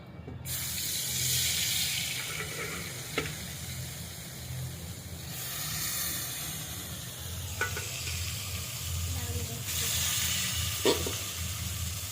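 Tilapia fish fries in hot oil in a kadai, a continuous close sizzling hiss that swells and eases in waves, with a few faint clinks over it and no voices.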